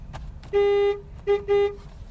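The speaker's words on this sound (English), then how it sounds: "Very disappointing horn." A 2020 Ford Edge SEL horn gives one thin, steady honk of about half a second, then two shorter toots close together, sounding near and alone over faint cabin noise.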